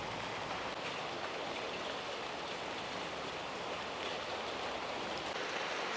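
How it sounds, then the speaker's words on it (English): Heavy pouring rain in a Malaysian rainforest near a waterfall, a dense continuous hiss of falling water and rushing flow, steady and enveloping with no voices. "At the rainforest, it's pouring rain."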